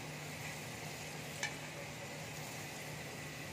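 Potato pieces frying in a pan with salt and turmeric, a steady soft sizzle with one brief stir or scrape partway through, quiet and with no talk.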